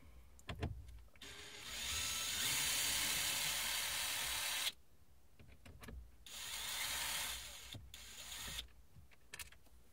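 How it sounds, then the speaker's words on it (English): Two Torx T20 screws are unscrewed inside a car with an electric screwdriver, two sustained whirring runs separated by clicks and handling noise, close and moderately quiet. "unscrew these 2 Torx T20 screws"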